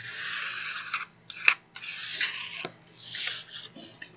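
Paper is folded by hand to make a file folder, close and fairly soft, with crisp crinkling, sliding and creasing rubs in short bursts.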